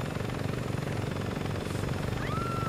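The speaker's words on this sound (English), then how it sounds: "This helicopter's hard to fucking drive." Helicopter flying in the video game Saints Row 2, a steady loud rotor thrum and engine drone that continues unbroken, with a brief rising whistle near the end.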